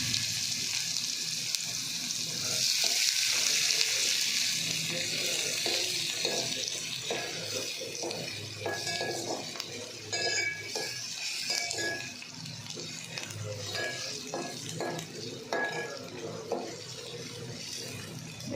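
Chopped vegetables sizzle gently in a pan over low heat with curry leaves, a steady frying hiss broken by repeated scraping stirs of a utensil against the pan, close by and with no talking.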